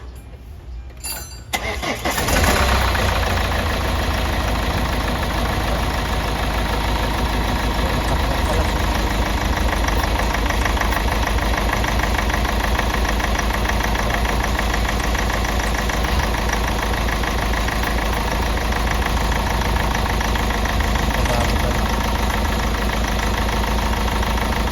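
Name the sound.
Hyundai Starex VGT diesel engine idling after injector replacement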